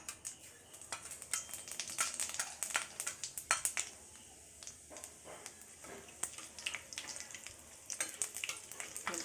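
Panch phoron seeds sizzle and crackle in about two tablespoons of hot oil in a wok (kadai), with sharp sputtering pops and bursts over a steady frying hiss, fairly close and with no talk.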